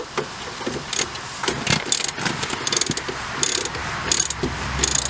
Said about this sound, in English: Going to grab a ratchet with a 17mm socket and a 17mm wrench.